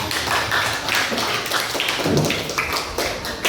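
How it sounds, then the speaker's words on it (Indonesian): A seventh-grade class in an Indonesian classroom claps together, giving a thick, continuous patter of many hands that fills the room at close range for a few seconds. "makasih tepuk tangan"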